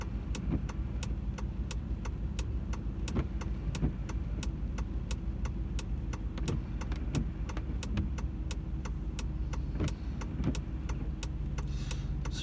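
A 2018 Peterbilt 389 truck is running, with a steady low engine rumble throughout and a regular series of sharp ticking clicks over it, heard close with no talk.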